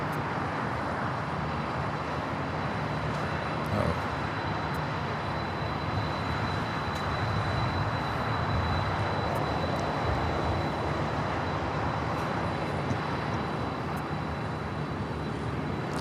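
A Boeing 747 airliner taxis at LAX, its engines giving a steady, distant rumbling roar with a faint high whine, unbroken and fairly low in level.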